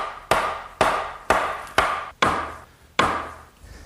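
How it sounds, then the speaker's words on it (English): A wooden mallet drives 2x4 garden bench joints into their mortises, about seven sharp, evenly spaced knocks with woody ringing decays, close and alone. "carefully slip these together and drive them down with my mallet"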